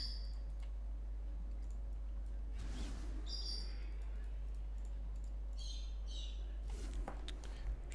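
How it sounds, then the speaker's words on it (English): Pet birds chirp indoors in a quiet room, short high tweets and brief trills scattered across the quiet, faint and at a distance, with a few soft clicks and no speech. "Sorry if you can hear a bird in the background too."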